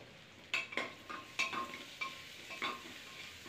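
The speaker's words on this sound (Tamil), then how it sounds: "இது நல்லா உப்பு சேர்த்து வதக்கிக்கோங்க" Salted onions sautéing in a pan make a soft sizzle beneath several distinct scraping clinks of a spoon stirring against the metal, spaced about half a second apart.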